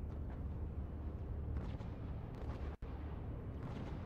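Space battle in the Fractured Space video game with large ships under fire: a dense, steady roar of explosions and artillery-like blasts, punctuated by bursts and one sharp momentary cutout.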